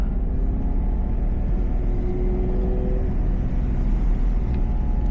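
A manual transmission car's engine drones steadily from inside the cabin as it pulls away and gathers speed, a continuous loud low rumble with no voices.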